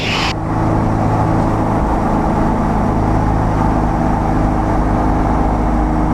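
A small plane's engine held at full throttle through a steep turn at about 160, a loud, steady droning roar with strong low harmonics that fills the whole clip without letting up.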